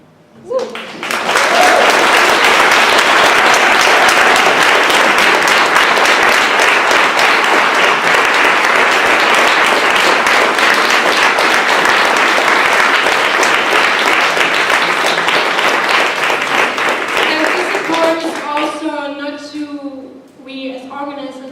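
Audience applause for the organisers at an academic conference on colonial legacies in urbanism, a long dense burst of clapping that swells quickly, holds steady and loud, then fades near the end as a voice begins talking.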